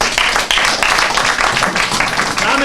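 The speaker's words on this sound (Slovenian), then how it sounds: "Dame in gospodje, dajte en velik aplavz." Loud audience applause at an improv comedy show, sharp, rapid claps filling the space continuously, close and energetic.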